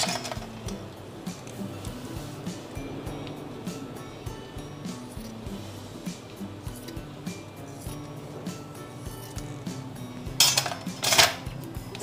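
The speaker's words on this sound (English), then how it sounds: "And cut the fabric." Fabric being cut with scissors for a baby turban hat: steady, quiet snipping and rustling throughout, with clattery handling noises louder near the end.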